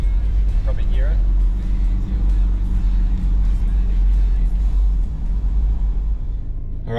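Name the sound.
4x4 car cruising on concrete road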